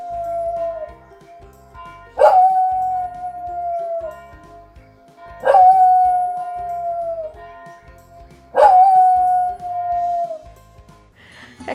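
A dog lets out three long, loud howls at a steady interval, each starting with a sharp onset and sliding down into a drawn-out wail, with a steady low background hum between them.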